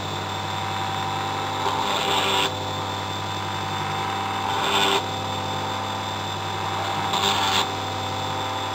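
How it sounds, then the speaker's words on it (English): A larger drill bit cutting into wood while making a disc spoon: a steady motor whine is broken by three separate bursts of rasping, each a few seconds apart, close and fairly loud. "Okay, that was it for the drilling."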